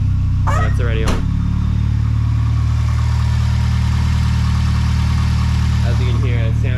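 A Volvo 740 Turbo engine with about 250,000 km on it idles smoothly just after a first-crank start, a steady close low hum running throughout, with brief speech near the start and end.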